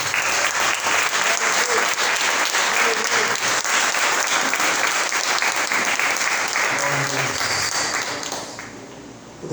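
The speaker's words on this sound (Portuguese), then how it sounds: "Você pode aplaudir o Senhor." A church congregation applauds during a worship service, sustained dense clapping from many hands that carries on steadily and fades near the end, with a voice faintly underneath.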